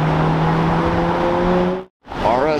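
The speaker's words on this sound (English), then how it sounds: "there's the one with the entertaining exhaust" A car with a loud aftermarket exhaust driving past at a car show, a strong droning engine tone that cuts off abruptly, then a burst of revving after a brief gap, with a voice talking over it.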